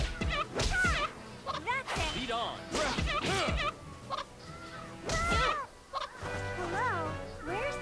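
A chicken enemy in the video game Arc Rise Fantasia gives repeated squawking clucks mixed with battle thumps, while voices talk over the action.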